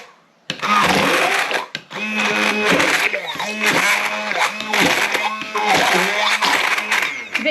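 A blender whirs loudly through curry ingredients for a South Indian egg curry, running in repeated pulsing bursts with a short pause near the start.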